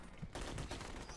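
Dense gunfire in a convoy-ambush firefight in a video game, a sustained fusillade of overlapping shots that starts abruptly and stays loud throughout.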